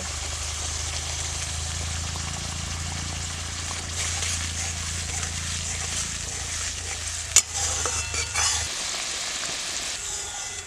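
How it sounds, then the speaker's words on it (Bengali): Poppy seed masala for an egg curry sizzles and fries steadily in a pan, with stirring; a brief sharp clatter comes near the end as water is added and the low hum drops away. "মশলা থেকে আমার তেল ছেড়ে দিয়েছে আমি এবার একটু জল দিয়ে দেব"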